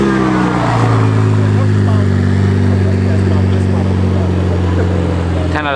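A car's exhaust rumbles at a steady idle up close at a car meet, with a faint rev near the end and people talking over the engine note.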